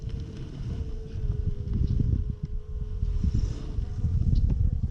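A low, steady buzz of many honeybees close by at a hive, with a faint hum and a soft rush of wind underneath.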